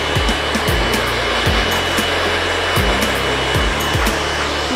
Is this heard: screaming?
no